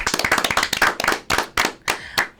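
Crisp hand clapping at a school talk-show event, a quick run of close, loud claps that thins into a few spaced single claps near the end, with no talk over it.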